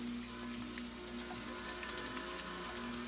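Mushrooms and onions fry together in a skillet with a soft, steady sizzle that stays faint and even throughout, with no talk.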